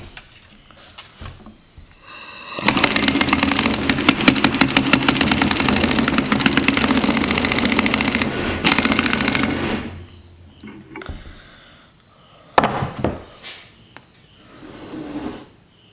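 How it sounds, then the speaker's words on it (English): An impact wrench with a 22 mm socket, set to low, hammers on a Cub Cadet M550 Challenger wheel bearing in a loud rapid burst of about seven seconds, followed by a few short clanks. "So I'm going to be using my impact here."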